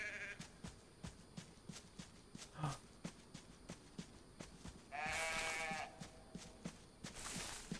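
Steady, regular hoof-like steps of a ewe in DayZ tap along quietly, and the sheep gives one wavering bleat partway through.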